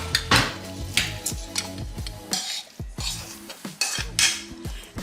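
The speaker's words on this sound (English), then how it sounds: "I'm gonna put everything in this bigger bowl so you can have room to mix it." Pie ingredients for a sweet potato bourbon pecan pie are stirred in a bigger bowl, with repeated ringing clinks of a utensil against the bowl in an uneven rhythm, close and loud with no talk.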